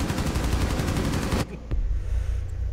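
Sustained rapid automatic gunfire in Rainbow Six Siege, a dense, loud burst of shots in a team deathmatch on the Chalet map, stopping abruptly partway through and followed by a quieter single shot and game ambience.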